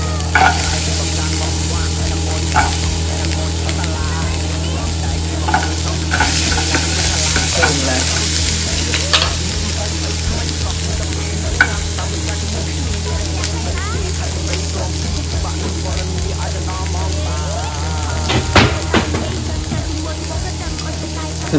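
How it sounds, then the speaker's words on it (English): Carrot and onion sauté in a pan at home, a steady close sizzle and frying hiss running throughout with occasional stirring scrapes and clinks, with people talking over it. "I'm going to saute the carrot."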